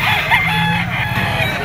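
A gamecock stag at a fighting-cock market in Lipa, Batangas, gives a single brief crow, close and clear with faint background noise.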